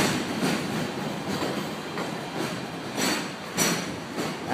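A New York City subway train rolls along the rails with a steady, loud rumble and rhythmic clickety-clack, recurring bursts of wheel noise rising over the continuous roar, with no voices.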